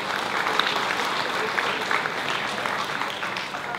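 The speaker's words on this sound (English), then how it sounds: "So Michael Yoshihara, give him a round of applause" A church audience at a 125th anniversary celebration gives a steady round of applause, dense and even clapping from many hands filling the room throughout.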